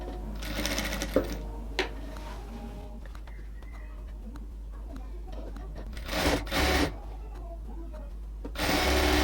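A sewing machine stitches sari fabric into a dress, whirring in short close bursts at the start, midway and at the end, with quieter handling of cloth in between.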